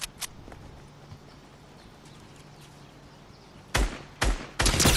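Bursts of gunfire in the Fortnite video game, three short rapid volleys near the end after a quiet stretch.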